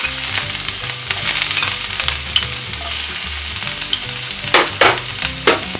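Chopped ginger hits hot oil in a pan for a soya chunk masala, giving a loud, continuous crackling sizzle with sharp spatters and stirring scrapes throughout.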